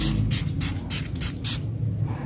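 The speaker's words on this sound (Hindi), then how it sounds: "आपने इसका 1 से 2 बार स्प्रे अपनी स्किन के ऊपर इस तरीके से कर लेना है ऐसे" A spray bottle of homemade skin-whitening mist is pumped onto skin, giving five quick, evenly spaced hissing bursts, close and distinct, with no talking.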